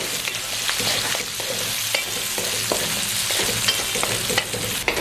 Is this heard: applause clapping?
no